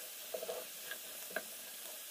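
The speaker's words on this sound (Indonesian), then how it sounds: "Setelah ini penambahkannya kita goreng dengan bawang putih" Garlic fries in a pan with a faint, steady sizzle, broken by a few soft stirring clicks and taps, with no talking.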